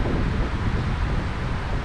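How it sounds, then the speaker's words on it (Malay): Strong wind buffets the microphone on Pantai Jeram beach during an afternoon of shrimp net fishing, a steady, loud roar with rumbling gusts and no pause. "So petang ni, angin dia berdezu. Angin kau-kau je."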